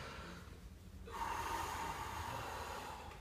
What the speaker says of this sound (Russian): Вдыхаете ртом, выдыхаете носом.